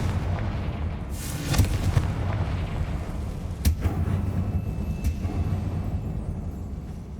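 A Confringo fire spell blasting in the Hogwarts Legacy game, inside an abandoned mine: a loud booming explosion with sharp cracking bursts over a rumbling, continuous background, no voices.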